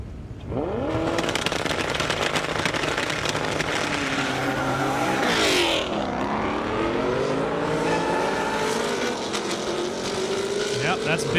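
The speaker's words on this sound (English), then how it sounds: "That's Ben Stoner and Tom Brett's GT350R and an 18 Mustang. Here we go." A Ford Mustang GT350R and a 2018 Mustang race down a half-mile airstrip, their engines roaring loud and sweeping in pitch as they accelerate past, with tire noise and a commentator talking over the run.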